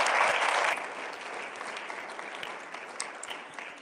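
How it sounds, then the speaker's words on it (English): Audience applause fills a room at a disability section awards ceremony, a dense burst that starts loud and then settles into steadier, softer clapping. "Can we give another round of applause"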